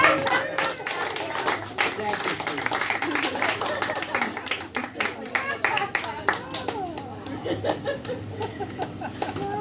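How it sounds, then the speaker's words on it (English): An audience applauding, with scattered and uneven claps building into a steady round, while a person briefly speaks over the clapping. "Give her a big round of applause."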